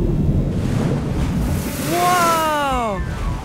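A cartoon gray whale blasts air out of its blowhole in a loud, breathy whoosh over wind and ocean surf, followed by a falling, wavering tonal sweep as the spray fades.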